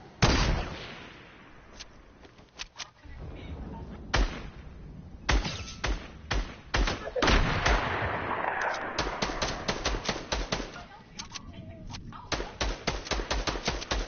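Gunfire in a PS4 online shooter: scattered single shots and rapid automatic bursts, loud and close, with pauses between volleys, while players talk faintly in the background.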